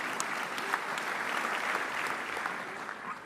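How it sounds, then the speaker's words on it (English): Sustained applause from an audience at an Air Force town hall conference, a steady even wash of many hands clapping throughout with no talking. "And in fact, yes, applause."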